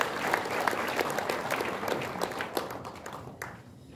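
Audience at a Korean history seminar applauding steadily, a dense wash of many hands clapping that fades near the end.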